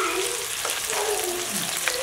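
Sliced onions fry in hot oil after fenugreek seeds in a pan for a Nepali fish curry, a steady close hiss and crackle that runs without pause, with a faint stir now and then and no talking.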